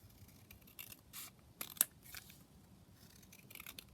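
Scissors trim paper for a craft page layout, giving a few short, quiet snips and rasping cuts close by in a hushed room.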